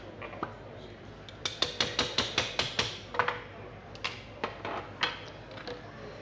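A crab is cut in half with a knife at a chefs' cooking demo at a crab festival, producing a quick run of about a dozen sharp, crisp shell cracks and clicks close up, with scattered snaps afterward.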